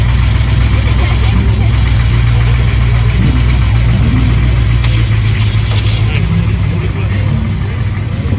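A Lamborghini Huracán S with its V8 idles nearby at Place Vauban in Paris, a steady deep rumble held throughout while a voice talks over it.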